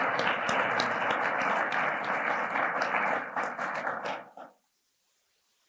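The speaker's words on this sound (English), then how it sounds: "join me in giving a round of applause to them" Audience applause at an academic excellence symposium, a dense sustained round of clapping that fades out and stops after about four seconds, leaving silence.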